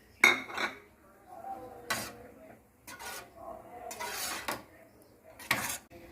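Semiya payasam in a pot being stirred after fried raisins and cashews go in, a few separate scraping and clinking strokes of a spoon against metal, close and fairly quiet with pauses between.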